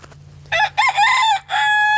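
A rooster crows nearby in one loud, clear cock-a-doodle-doo, broken into several rising and falling segments and ending on a held note, with no voices.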